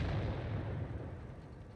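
Cannon fire in a tank video game comes as a single deep, heavy boom at the start, with a low rumbling tail that slowly fades across the remaining second or so.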